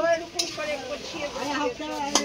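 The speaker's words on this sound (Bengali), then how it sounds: "আমি এটা এখন একটু নাড়ছি" Potatoes and other food sizzle in a hot pan while being stirred, a steady close frying hiss with light scrapes, and a voice talking over it.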